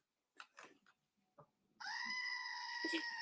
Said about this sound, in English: Why is there a goat screaming at me?